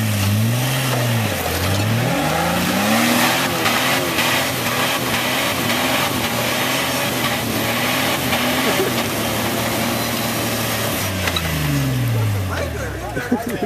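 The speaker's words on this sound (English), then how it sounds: "gotta love the rev limiter" A 4x4 on a quarry trail revs hard, its engine pitch climbing and dipping in swoops before holding at the rev limiter, loud and close, with people talking over it.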